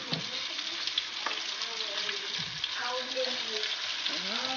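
Flour-coated chicken fries in hot oil, a continuous close crackle and bubble beneath intermittent voices speaking, with occasional soft stirring scrapes.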